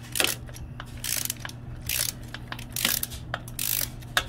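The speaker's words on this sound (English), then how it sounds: "I just put the ratchet on here. This is much faster than what I was doing." Ratchet and socket turning a bolt on a 2004 Harley-Davidson Dyna FXDI during a forward-to-mid control swap, giving bursts of rapid, sharp clicking in repeated strokes, close and loud, with brief pauses between pulls.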